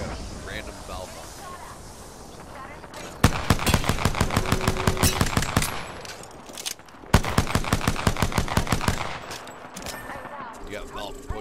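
Automatic weapon fire in the battle royale game Apex Legends, two long rapid bursts of sharp shots with a short break between them, loud and close, while players talk over the action.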